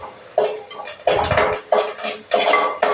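Curry leaves being sautéed in a pan, heard as four loud scraping, clattering strokes of a spatula against the metal at a steady pace, close up with no talking.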